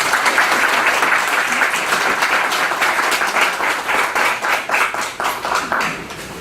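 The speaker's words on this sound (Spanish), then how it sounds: "Fuertes aplausos nuevamente para la doctora Lely Yata" An audience at a bar association event applauds after a speech, loud close clapping with distinct individual claps that thins and fades toward the end.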